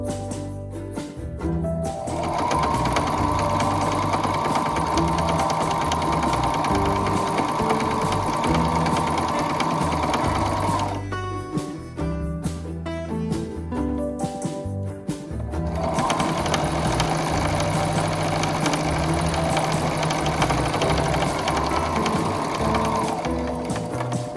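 A sewing machine runs a long straight seam in two extended bursts of fast, steady mechanical stitching, close and loud, separated by a short pause with light handling clicks and no speech.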